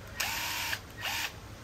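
Hitachi 7.2V cordless impact driver firing in two short bursts, each a high-pitched motor whine with a quick rising and falling pitch. Heard close and fairly loud with a pause between bursts, no talking.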